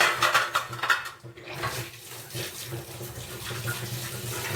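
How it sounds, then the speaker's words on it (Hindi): Dishes being washed at a home kitchen counter: running tap water with clinks and clatter of utensils and pots, steady and close, with no talking. "तो अभी तो मैं स्लेब पे ही बर्तन धो के रख देती हूँ"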